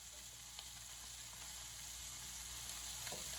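Venison steak fries in Crisco in a skillet, giving a steady, quiet sizzle with faint crackles and no talking.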